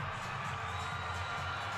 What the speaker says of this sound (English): And you hear it, the crowd is into it, backing the Cardinals